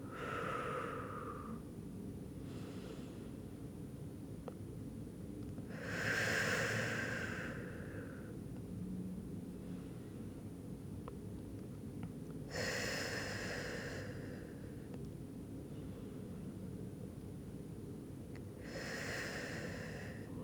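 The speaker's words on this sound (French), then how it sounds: "on va prendre quelques grandes respirations ici" Slow, deep breaths during a stretching and mobility session come in four separate drawn-out waves, several seconds apart and fairly close, over quiet background hiss.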